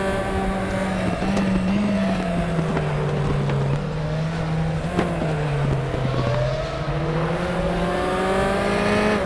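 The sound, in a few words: race cars approaching in RaceRoom Racing Experience video game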